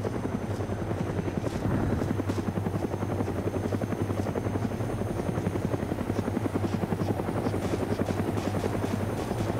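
A helicopter in the video game DayZ drones loudly and steadily with a fast rotor chop and low engine hum, close by and constant throughout.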